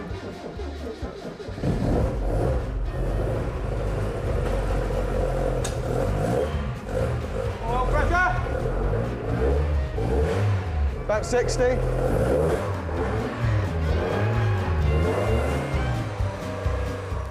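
A Lotus Esprit engine running during a recommissioning test, loud and close, its revs rising and falling over a steady roar for a long stretch while people talk briefly.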